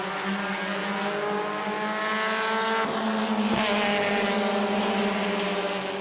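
A pack of race cars roars around the New Smyrna oval, loud layered engine drones rising and falling in pitch as cars pass close, with a sharp shift near the middle.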